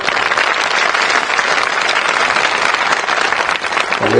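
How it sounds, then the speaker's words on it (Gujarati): Loud, sustained applause from a large audience at a public speech in Rajkot, clapping for Air India pilots, dense and steady throughout without a break. "એક વખત તાળીઓ આપણા એર ઇન્ડિયાના પાયલોટો માટે વગાડો"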